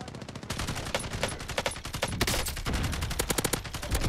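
Sustained automatic gunfire in Warzone, a fast stream of sharp cracking shots in quick bursts with brief gaps, loud and close throughout.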